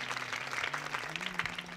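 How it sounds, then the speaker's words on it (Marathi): A village crowd at a kirtan claps to welcome someone, a dense, sustained patter of many hands at moderate level, with a low steady hum beneath. "तिचे स्वागत करण्यासाठी जोरात टाळी वाजवायची"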